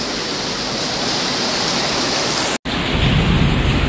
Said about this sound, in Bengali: থেকে বৃষ্টিটা দেখো, অদ্ভুত লাগছে। বিদ্যুৎ চমকাচ্ছে